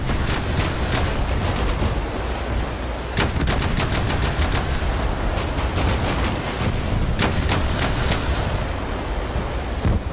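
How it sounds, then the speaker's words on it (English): Bushmaster cannon and CIWS naval guns firing in a video game naval battle against a gunboat swarm, loud rapid bursts of automatic fire in several long strings over a constant rushing wash. "So what's firing? Bushmaster and Seawiz,"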